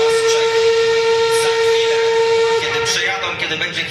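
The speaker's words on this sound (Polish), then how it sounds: "Pozostały jeszcze dwie lokomotywy, które zbliżają się do nas." Steam locomotives arriving at a steam locomotive parade in Wolsztyn, one of them visiting from Germany: a loud sustained steam whistle sounds for several seconds, then cuts off into rumbling, hissing train noise nearby.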